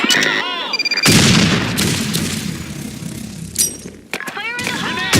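A grenade blast in a video game: a sudden broad boom about a second in, with a long crackling, rumbling tail that fades, framed by short game voice barks and effects before and after.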